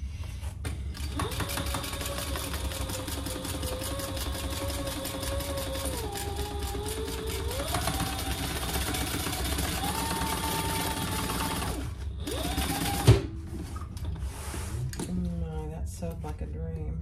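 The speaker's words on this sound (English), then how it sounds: "Another handle to back stitch over." A sewing machine steadily back stitching over a vinyl handle on a storage caddy, running continuously with a mechanical whir that shifts pitch, with a short sharp clunk near the end.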